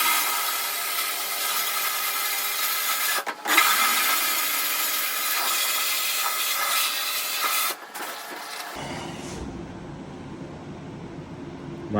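Media blasting on a Honda 200X triple clamp neck gives a loud, steady hiss of abrasive spray that runs nearly nonstop, briefly cutting out twice before turning into a lower, rougher rumble near the end. No one speaks.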